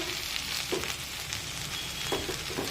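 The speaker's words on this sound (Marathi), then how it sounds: "आणि ही भाजी तेलामध्ये परतून घेऊया" Vegetables sautéing in hot oil in a village-style home kitchen, a steady close sizzle that runs throughout with a few brief stirring clatters and no talk.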